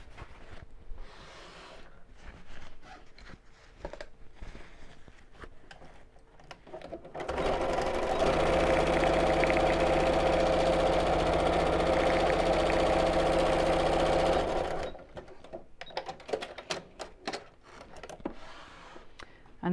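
A domestic sewing machine stitches straight across the squared corner of a fabric tote bag, running in one steady, fast whirring burst of about seven seconds between quieter handling sounds, with a person speaking before and after.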